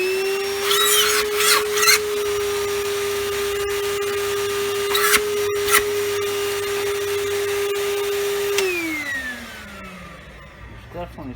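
A Kenmore Elegance upright vacuum cleaner, found uncleaned with its canister unemptied, runs with a loud, steady motor whine, punctuated by a few rattles and bumps, then winds down as it is switched off.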